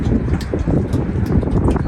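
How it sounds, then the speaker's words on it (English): Gusty wind buffets the microphone in rough, uneven bursts, a loud low rumble with no voices. "Man, it's windy out here. It's blowing."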